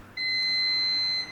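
Washing machine signalling with a single sustained electronic beep, a clear steady tone lasting about a second, close and alone with no talk.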